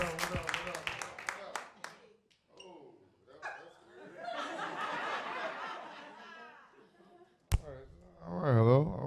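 Audience applause at a Chicago stand-up comedy show as a comedian is brought on stage: a broad, fairly loud wash of clapping and crowd noise that follows a host's voice, with talking resuming at the end.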